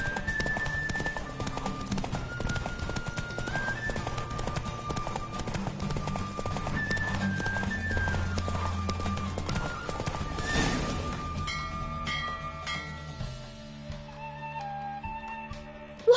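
Horse galloping during a race in The Witcher 3, a steady rapid clip-clop of hooves with a brief whinny, loud and close over game music, slowing near the end as the race finishes.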